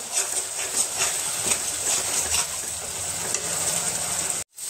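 Spice paste sizzles steadily in a hot pan for a small mola fish chorchori, with soft stirring scrapes throughout, then cuts off abruptly near the end. No one speaks.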